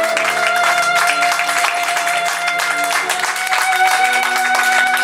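Applause for the bride and groom after their kiss at a civil wedding ceremony, a steady wash of clapping from the guests lasting throughout, with a violin-like sustained tone playing underneath.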